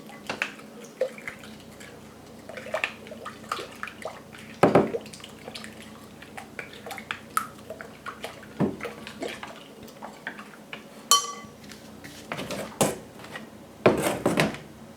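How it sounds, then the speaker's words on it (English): A spoon stirs sugar and sourdough starter into water in a bowl, with scattered light clinks, taps and soft liquid swirls at close range, irregular and fairly quiet. "I can just quickly stir a little bit to dissolve the sugar and break the sourdough starter into the water"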